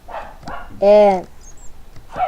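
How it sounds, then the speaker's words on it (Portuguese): A pet dog barks indoors, a single loud, close bark standing out between bursts of a person talking, with quieter talk resuming after it. "minha cachorra tá latindo"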